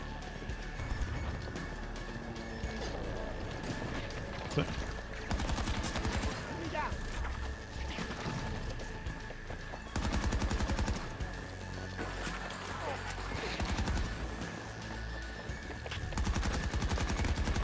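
Repeated rifle gunfire from an AK24 in the video game Battlefield 2042, loud bursts of shots running through the whole stretch, with game noise and players talking over it.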